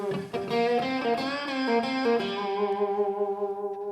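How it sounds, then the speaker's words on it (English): Electric guitar lick run through an effects unit with distortion, sustained harmonic notes repeating a short phrase shifted up an octave, loud and alone with no talking. "you could play a lick"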